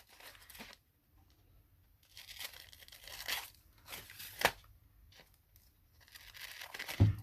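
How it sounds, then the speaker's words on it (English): Paper edges being trimmed for a handmade sewing journal, a faint series of tearing and crinkling sounds in irregular bursts with quiet gaps between them. "I'm just trimming up the edges here."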